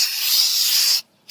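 A loud, close hiss of aerosol brake cleaner sprayed on the rear brakes of a 2004 Volvo XC90 for about a second, a brief silence, then the spray starts again.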